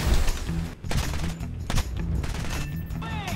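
Rear-gunner machine guns on a US strike aircraft fire in a video game. Rapid, loud bursts of gunfire come in several clusters, with short gaps between volleys and a faint whine near the end.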